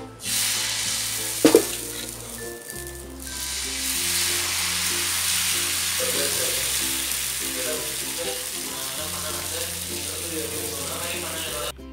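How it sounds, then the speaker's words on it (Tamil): Dosa batter sizzles steadily on a hot pan in a home kitchen, a constant bright crackle lasting throughout, with a brief sharp clatter near the start and steady background music tones underneath. "எப்பவும் போல் தோசை ஊற்றிட்டு அது மேலே கொஞ்சம் பொடியை போட்டுருங்க."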